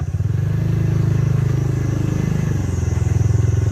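A scooter engine drones steadily while riding, a loud close low hum with a fast pulsing throb that dips briefly and then picks back up.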